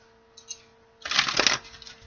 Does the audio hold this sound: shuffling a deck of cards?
yes